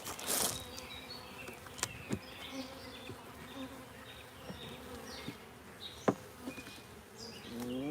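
Honey bees buzz steadily inside an opened beehive during maintenance, a dense close hum with occasional sharper passes of individual bees near the microphone and faint tool clicks, no voices.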